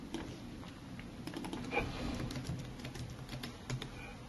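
Computer keyboard keys, tab and enter, tapped while modeling polygons in Cinema 4D, a steady run of light clicking keystrokes close to the mic with no talk.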